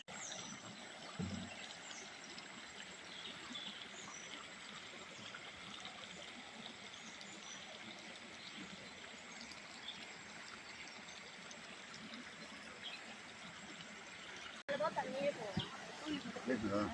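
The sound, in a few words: Narayanavanam waterfalls, flowing water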